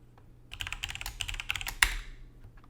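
Linux command being typed on a computer keyboard: a brisk run of clicking keystrokes, close and clear, ending on one sharper key press before a short pause and a few light taps.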